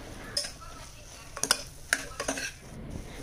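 Grated coconut is stirred into a jackfruit seed curry in a pan, Kasaragod style: soft intermittent scrapes and clinks of a spoon against the metal over a faint low simmer, close and fairly quiet.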